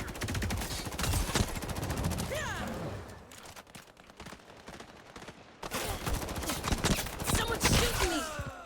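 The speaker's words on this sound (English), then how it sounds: "Someone's shooting me." Bursts of rapid automatic gunfire in the shooter Highguard, close and sharp, with a short lull in the middle before the shooting resumes hard.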